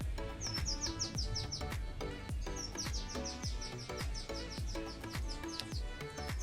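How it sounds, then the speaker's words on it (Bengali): A flock of small birds feeding on paddy outdoors chirps constantly, with many overlapping bright tweets and quick calls at a busy, irregular pace, faint and spread around with no talk. "অনেকগুলো চোরাই পাখি এখানে ওই ধান খাওয়ার জন্য আসছে"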